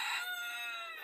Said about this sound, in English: you will hear chickens and roosters in the background